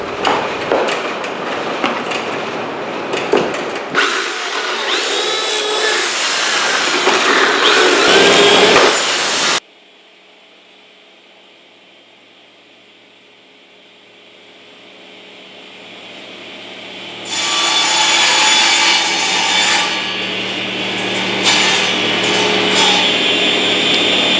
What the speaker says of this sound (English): that was me cutting the pocket screws for the or the pocket holes for the for those short pieces there